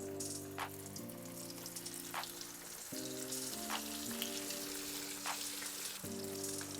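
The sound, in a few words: deep-frying potato tacos in hot oil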